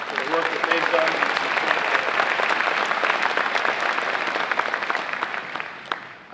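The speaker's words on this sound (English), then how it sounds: "them a great round of applause for the work that they've done" Audience at the Reaching for Rainbows 2025 event gives a sustained round of applause for the board and its work, dense clapping filling the room steadily for several seconds before easing slightly at the end.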